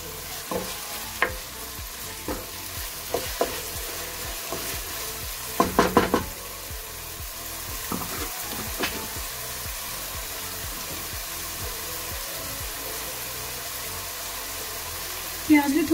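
Onions fry in a pan while being stirred, giving a continuous close sizzle broken by repeated scraping strokes of a spoon, with a cluster of louder clattering stirs partway through.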